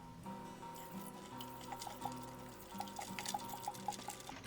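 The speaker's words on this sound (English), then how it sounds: "we're going to kind of gently add the water, I suppose, as I mix" Water is gently poured into a thick honey mixture while it is stirred to make mead at home, a quiet trickling pour with soft clinking and stirring sounds, close and low in level.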